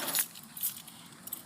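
Car keys jangle briefly in a few quick metallic clinks near at hand at the trunk lock of an 80s Oldsmobile Cutlass Supreme, with small rattles between bursts.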